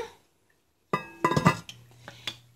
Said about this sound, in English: So I'm going to put the lid back on